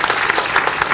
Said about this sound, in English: So please applaud yourselves.